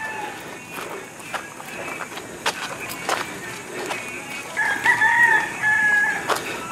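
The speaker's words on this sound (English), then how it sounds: "And as you can hear, there are always chickens." A rooster crows near the end over a rural outdoor scene with scattered chicken clucks, footsteps and faint background voices, the crow loud and close against the busy ambience.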